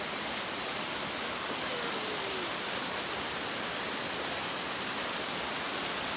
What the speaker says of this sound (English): So this is my next brook.